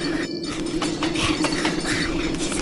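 A train in a Burger & Fright horror video game rumbles steadily with faint rhythmic clatter, a constant mid-level drone with no talk.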